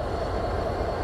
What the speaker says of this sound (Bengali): আর এই যে আমাদের আজকের ট্রেনের লোকোমোটিভ